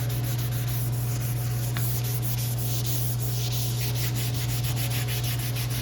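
Close, continuous sanding of an Audi hood with a sanding block: a rough scratchy rub with back-and-forth strokes over a constant low electrical hum, and no one speaking.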